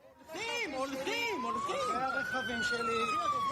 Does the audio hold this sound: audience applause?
no